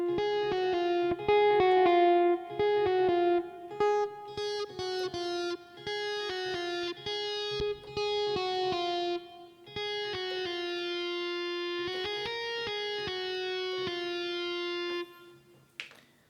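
A distorted synth electric-guitar lead played on a Korg Modwave holds a sustained, melodic line with gritty harmonics, steady and loud throughout with brief gaps between phrases.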